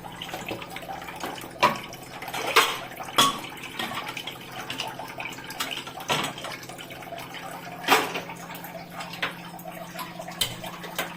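A cup of water poured into dal in a cooking pot, with a steady splashing trickle and scattered clinks and drips heard close by.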